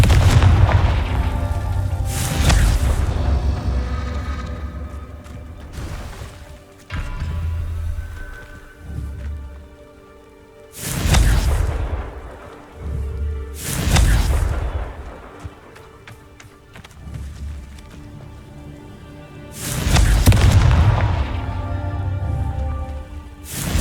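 Spell blasts from the Confringo curse in Hogwarts Legacy burst out as four or five loud, booming explosions in an irregular rhythm, each with a rumbling tail, over a steady bed of game music.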